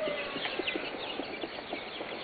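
Chickens cluck softly and intermittently in a quiet, busy flock, with scattered short calls over a low background hiss.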